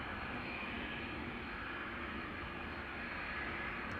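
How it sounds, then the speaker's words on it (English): Jet airliner engines roar steadily during departure at Amsterdam Schiphol Airport, a loud, continuous broadband rumble with a faint whine on top, swelling slightly as the aircraft turns. "when the engines are turning your way that they start getting louder so much more distinctly"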